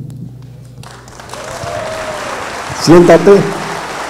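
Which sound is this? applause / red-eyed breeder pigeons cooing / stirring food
applause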